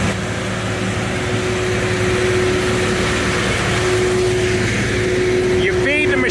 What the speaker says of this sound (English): So the fan is blowing a curtain of air right over the top of the fire, keeping the fire hot and keeping the smoke down